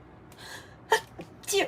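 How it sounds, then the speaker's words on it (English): A short, close sneeze bursts out midway, followed by a second breathy burst, with faint voice sounds around them. "I have to sneeze."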